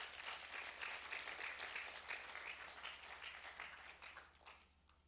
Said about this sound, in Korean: 우리 모두 특별하게 다 주인공이지만 어르신들을 위해서 감사와 존경의 박수 한번 크게 쳐드립시다.